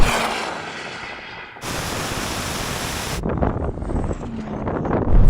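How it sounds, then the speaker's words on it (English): A Ferrari SF90 launching in a drag race against a Porsche and a Tesla Model S Plaid, wheels spinning through first and second gear, heard as loud broadband roaring rush mixed with heavy wind buffeting that shifts abruptly partway through. "Scrabbling all the way through first gear, shifting to second, still spinning in second gear."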